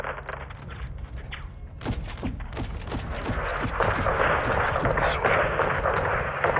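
Call of Duty: Modern Warfare II combat, with a string of heavy booming artillery or gun blasts at an irregular pace, then a dense roaring barrage that swells louder and keeps rumbling.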